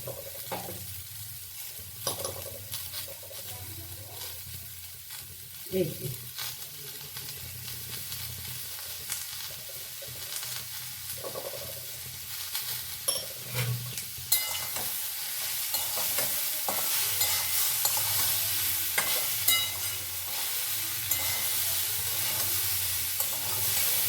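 Sliced papaya half-fried in a pan, with a soft steady sizzle and repeated scraping, clattering strokes of a spoon stirring it, no voices.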